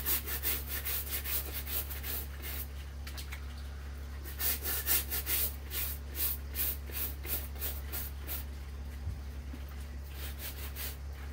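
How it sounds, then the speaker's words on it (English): Stiff brush scrubbed in repeated back-and-forth strokes over dirty, oil-treated leather work boots, clearing heavy dirt and grime; close and steady, with no talking. "Brushing this is what I'm doing here, is just getting off all the heavy dirt and grime and trying to get off some of that oil"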